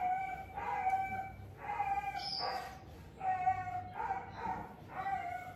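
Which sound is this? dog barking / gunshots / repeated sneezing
dog barking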